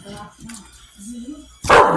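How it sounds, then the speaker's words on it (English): A pit bull gives a few short barks and yips, close by, ending in a louder sharp bark. "Hey, who you barking at?"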